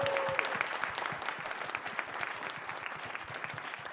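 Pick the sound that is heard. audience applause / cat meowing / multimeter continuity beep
audience applause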